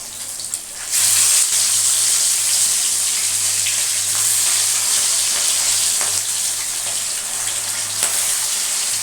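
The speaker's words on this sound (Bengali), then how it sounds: "এবার আমি সবগুলো মাছ ভেজে নেব" Hilsa fish pieces fry in a wok with a steady, close, hissing sizzle that stays loud and even throughout, with a low hum beneath.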